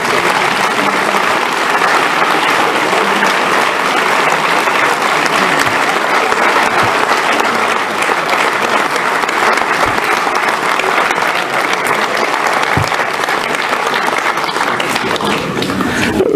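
Sustained audience applause at the 2017 New Year's greetings ceremony in Mennecy, honouring the prize-winning women, steady and full from a large crowd for over sixteen seconds with no break.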